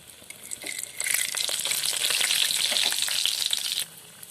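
Potato kachori sizzles in hot oil in a quiet kitchen, a bright crackling fry that swells after a second, holds steady for several seconds, then cuts off sharply.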